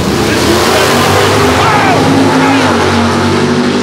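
Two drag racing cars roar down the strip at Atco Dragway, side by side with wheels up. The loud, steady engine howl fills the air while an announcer calls the race over it.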